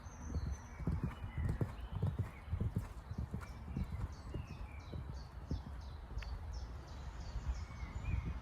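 Horse hooves cantering in an arena, a steady rhythmic clip-clop of repeated thuds close by, with occasional faint bird calls in the background.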